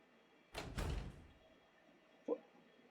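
A door clicking shut in the Tsukihime visual novel, a soft distant thud after a brief rustling burst, then a small sharp click near the end, faint against a quiet hiss.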